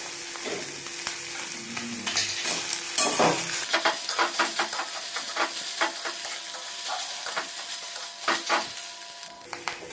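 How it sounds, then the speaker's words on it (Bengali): An egg frying in a wok with chopped onion, turmeric powder and salt, hissing with a loud, continuous close sizzle while a spatula scrapes and stirs in repeated quick strokes, no one talking. "এই দেখুন ডিমটি এইভাবে এক মিনিট এভাবে ভেজে নেবেন"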